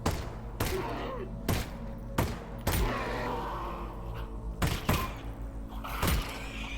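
Gunfire in the virtual reality game Half-Life: Alyx, a string of loud, sharp shots spaced unevenly over a low rumbling background.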